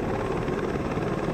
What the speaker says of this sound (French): il faut préchauffer les moteurs sur un hélico